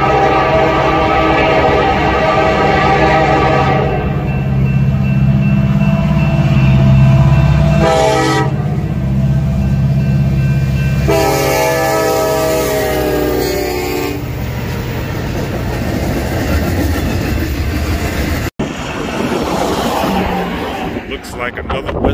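A westbound freight train rolls past loudly and close, with a steady rumble, blasts of its horn and clattering wagons, while people talk over it.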